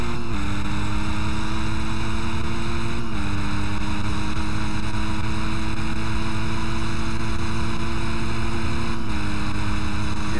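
A Ducati 999R motorcycle engine in the racing game Test Drive Unlimited screams at high revs, a loud, continuous buzzing drone with brief dips in pitch at gear changes, sustained throughout with no talking.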